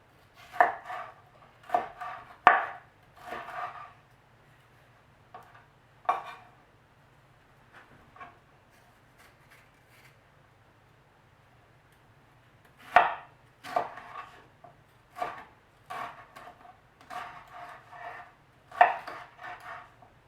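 A knife chops red and green peppers on a cutting board, with crisp bursts of rapid strokes separated by quiet pauses, close and clear, no talk.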